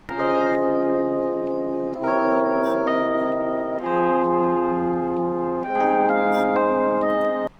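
A melodic music sample of the song, pitched up one octave, plays continuously with sustained harmonic chords changing every couple of seconds, bright and high-pitched, with no voices.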